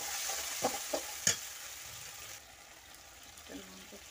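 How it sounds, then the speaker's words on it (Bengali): A pan of fish curry sizzles and is stirred as a poppy seed, chili and onion paste goes in over melted tomatoes, with a few sharp scraping knocks early on, then a quieter steady fry; a voice speaks briefly. "আমি পোস্ত লঙ্কা পেঁয়াজ বাটাটা দিয়ে দেব।"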